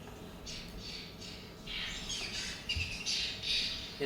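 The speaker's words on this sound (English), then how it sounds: "it's a babbler" Pinstripe babbler song in parkland at the edge of forest: a run of clear, moderately loud squawking and chirping phrases that builds and repeats over a low outdoor background, with no talking.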